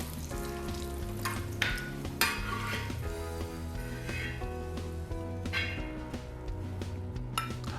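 Cashews and raisins sizzle and fry steadily in hot ghee for Kerala-style mutton biryani, with occasional stirring scrapes and soft clinks of a utensil against the pan throughout.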